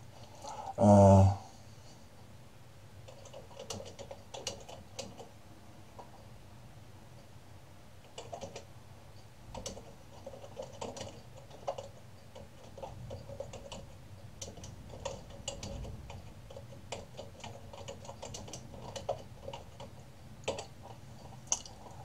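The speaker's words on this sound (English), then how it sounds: "I'm typing this without looking at the screen because I can't do both." Steady typing on a computer keyboard, close and fairly quiet, with irregular bursts of key clicks and brief pauses, alone without talk after a short loud bump near the start.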